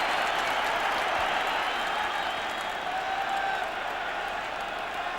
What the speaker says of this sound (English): The crowd are delighted as well.